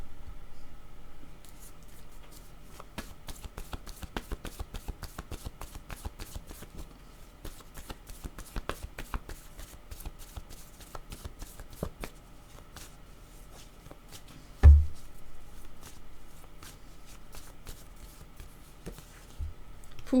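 Game cards handled and shuffled at a table, a long run of rapid close riffling clicks and flicks with pauses and a single louder knock partway through.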